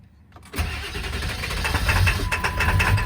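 A 1999 Ford F250 with a 7.3L Powerstroke diesel cranks briefly, then catches and fires into a loud, rough, clattering idle that steadies and grows slightly, heard up close with no talking.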